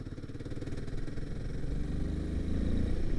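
A Royal Enfield Himalayan 452 engine pulls in fourth gear from 2,000 revs, its rhythmic putter rising in pitch and growing louder as it accelerates.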